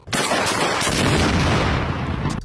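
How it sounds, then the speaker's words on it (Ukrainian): Several sharp shotgun blasts crack out at a drone amid a loud, continuous roar of noise, close by and harsh. "вискакують з машини та влучно стріляють по ньому з рушниці"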